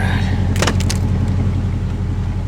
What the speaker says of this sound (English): Park brake, a bit sticky.